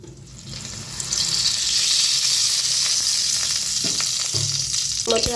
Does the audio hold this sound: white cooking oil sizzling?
yes